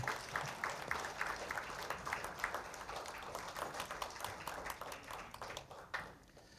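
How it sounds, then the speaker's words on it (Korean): An audience claps steadily at a Seoul Doctors' Day commemorative ceremony, a dense, even patter of many hands that holds for several seconds before thinning slightly near the end, with no talking over it. "큰 박수로 맞이하여 주시기 부탁드리겠습니다"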